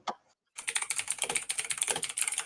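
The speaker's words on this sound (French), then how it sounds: "Si le clavier il fait pas clac-clac, c'est que c'est pas un bon clavier" Rapid, close typing on a non-mechanical computer keyboard: a dense stream of crisp clicks after a brief pause.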